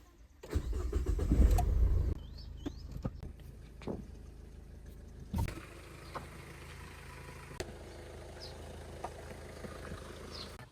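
A four-wheeler car starts up nearby with a loud burst of engine noise, then settles into a low idle while being parked, with a few faint clicks and thumps over a steady background hum.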